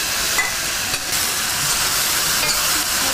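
Blanched bamboo shoots and carrots tossed into a wok of stir-frying vegetables, with a loud, continuous close sizzle and hiss and a couple of brief stirring knocks, no one talking.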